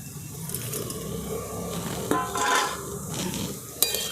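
Fried puti fish is stirred into a sour curry of raw mango in a pan, with scraping utensil sounds, a gentle sizzle and a couple of sharp clinks against the metal.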